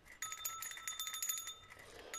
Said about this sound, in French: avec une petite cloche. Je vais essayer de vous la faire sonner